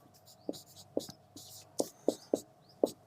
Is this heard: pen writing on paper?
yes